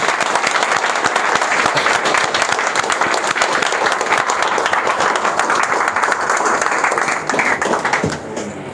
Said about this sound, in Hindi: उनके वेलकम के लिए इतनी जोरदार तालियों से स्वागत होना चाहिए